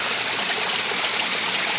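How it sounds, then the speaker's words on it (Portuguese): A small cool waterfall splashes and gushes steadily nearby, a loud continuous rush of falling water with no other sounds. "Lá em cima está saindo mais água. Está respingando aqui."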